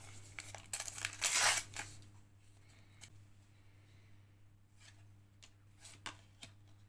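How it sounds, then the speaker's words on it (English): Packs of Premier League Plus football trading cards being torn open, a few sharp close ripping and crinkling bursts early on, then quieter card shuffling with occasional soft clicks over a low steady hum. "opening these 8 packs of Premier League Plus cards"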